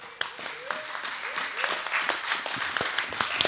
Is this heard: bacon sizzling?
no